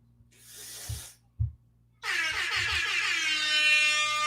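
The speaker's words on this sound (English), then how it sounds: "An air horn is forever." Sustained, loud air horn blast sounding alone for the last two seconds, after a couple of short low thumps and a burst of hiss.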